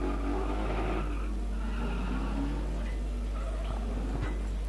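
Stock cars race around a track at a Border Stockcars regional meeting, their engines sending up a continuous, dense roar that fills the whole stretch with no quiet gaps.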